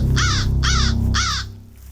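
A crow in the Tempus Triad game caws three times in an even rhythm, loud and nearby over a low steady rumble, with no talking.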